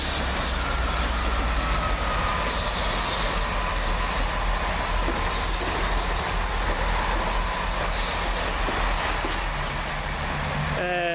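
A Chiltern Railways Class 165 passenger train rumbles loudly and continuously close by as it pulls out of Oxford station, with wheels squealing briefly near the end.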